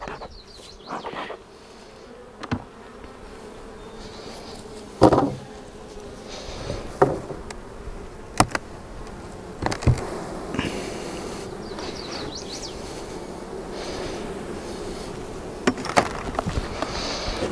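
Honey bees buzz around an open double brood chamber hive being split, a steady droning swarm at close range, broken by occasional sharp wooden clunks and knocks of hive boxes being handled.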